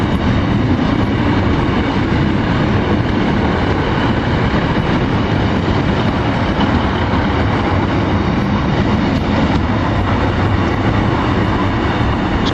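A small multiple-unit passenger train pulls into a station around Nottingham and Derby, a continuous loud rumble and engine drone with faint squeals and clatter throughout, no voices.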